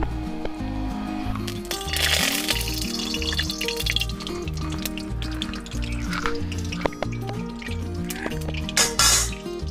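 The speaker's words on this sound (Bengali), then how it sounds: "প্রথমে আমি কড়াইতে তেল দিয়ে দেবো।" Cooking oil poured into a wok for frying potatoes, a liquid trickle and dripping spatter with faint crackles running steadily over about ten seconds, alone and close.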